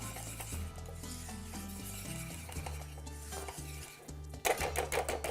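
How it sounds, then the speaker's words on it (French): Food being mixed in a pan while cooking chicken medallions, a low sizzle with soft scraping stirs that grow louder and busier toward the end, no voices. "Mélange bien."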